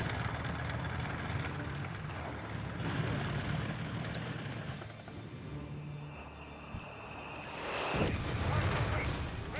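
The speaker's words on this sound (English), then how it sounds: "Brief moment of quiet here, only being slightly disrupted there by artillery fire here and there" Scattered artillery fire rumbles in the World War II strategy game Company of Heroes 3: dull distant booms and low thuds roll under a continuous battle din. A commentator talks over it.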